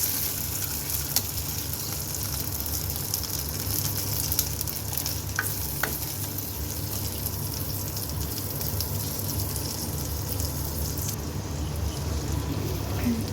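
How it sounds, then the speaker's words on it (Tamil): Chopped tomato frying in a pan for a village-style rasam, a steady close sizzle running unbroken throughout with no voices. "இதை இப்போ நல்லா நம்ம ஃப்ரை பண்ணிக்கலாம்"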